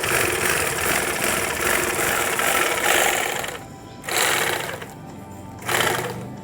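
A rice sack is stitched shut with a loud, close sack-closing sewing machine, its rapid rattling motor running steadily, briefly easing off, then starting again twice.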